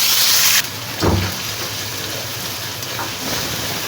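Onion paste hits hot oil left from frying fish in a wok, giving a loud hissing sizzle that bursts up and settles into a steady crackle, close by with no talk.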